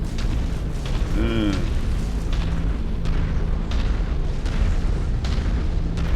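An LBX-10 autocannon firing in a mech combat video game: a dense, steady roar of low booming blasts running throughout, with a brief tonal warble near the start.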